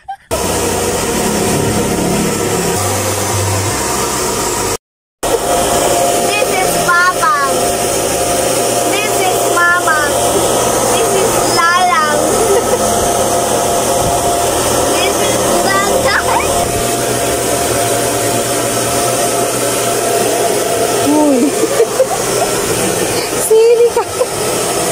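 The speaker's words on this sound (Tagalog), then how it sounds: "Hindi na nga po natapos yung pagbublower ng buhok niya" A hair dryer blows steadily through the whole stretch while a young child's hair is dried at home, a continuous whooshing hum broken by one brief cut, with voices talking over it now and then.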